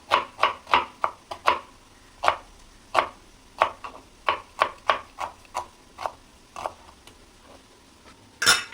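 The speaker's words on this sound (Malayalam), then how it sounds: "ഉള്ളിയെല്ലാം ഇങ്ങനെ തന്നെ നമുക്ക് കട്ട് ചെയ്തെടുക്കാം" A knife chops onions on a board for a tapioca biryani, about twenty crisp, close, evenly spaced knocks in a steady rhythm, with a final louder knock at the end.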